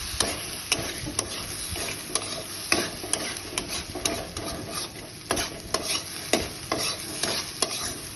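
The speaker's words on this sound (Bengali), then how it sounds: "ডিমগুলো মশলার সাথে ভালো করে মিশিয়ে নিলাম।" Eggs being mixed into masala in a frying pan: a steady sizzle with repeated scraping stir strokes of a utensil against the pan, close and continuous, no voices.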